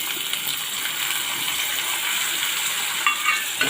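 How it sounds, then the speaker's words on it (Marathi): Chopped tomato added to onion frying in oil for a fish curry, giving a bright continuous sizzle with a few clinks and stirring sounds near the end. "आपला कांदा चांगला भाजला गेला आहे त्यामध्ये मी एक टॉमॅटो चिरला आहे तो घालणार आहे"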